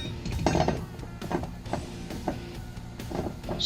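A metal lock ring handled and slid over a Ram 1500 fuel pump assembly, giving a string of close, light metallic clicks and scrapes in irregular bursts.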